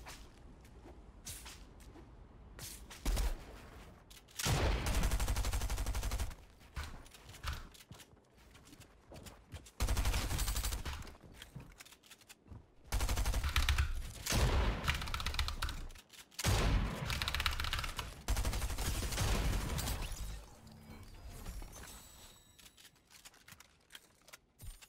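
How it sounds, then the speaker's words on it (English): Rapid bursts of video game gunfire crack out in repeated volleys, loud and close, with short quiet gaps between the salvos and no talk over them. "Why are you shooting me in the back?"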